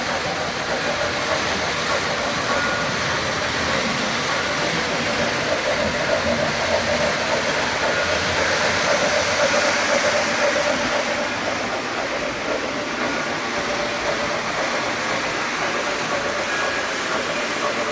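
A model diesel train and a handcar run on a Christmas layout, giving a continuous dense mechanical rumble and whir that stays loud and steady throughout.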